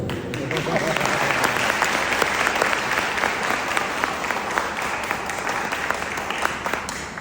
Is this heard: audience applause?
yes